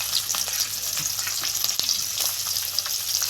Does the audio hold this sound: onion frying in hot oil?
yes